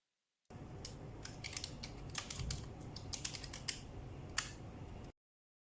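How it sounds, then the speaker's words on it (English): Someone types on a computer keyboard connected through a dual-monitor KVM switch, a rapid run of crisp key clicks heard close up over a steady hiss, with no voices. "Let's type some letters."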